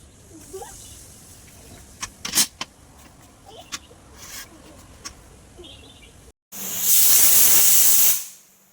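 Steam hissing from a pressure cooker in a home kitchen, a loud, sustained burst near the end lasting under two seconds before cutting off, preceded by quieter household clatter and faint sounds.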